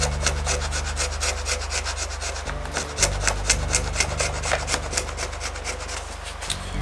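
Steady, rhythmic rasping as a file or scraper works along the edge of a wooden guitar brace inside a Regal parlor guitar, close and continuous with repeated strokes, no talk.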